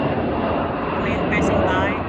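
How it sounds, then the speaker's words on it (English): Air Force plane passing overhead near a base, a steady broad engine roar heard outdoors under a person talking. "plane passing by."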